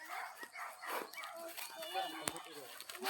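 Dogs barking in the distance in a rural Philippine setting, several faint repeated barks spread across the moment with a brief sharp knock partway through, and voices talking faintly.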